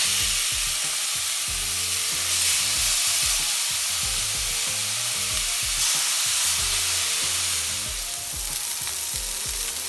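Thin chicken breast pieces seasoned with paprika sizzle steadily on a grill, a close, loud, continuous crackling hiss with no voices.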